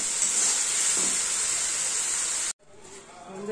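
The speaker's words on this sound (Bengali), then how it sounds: "আলুগুলোকে একটু ভাজা ভাজা করে ঢেকে দেবো" Potatoes with a little turmeric fry in a pan with a steady, bright hiss of sizzling that stops abruptly after a couple of seconds, leaving only faint background sound.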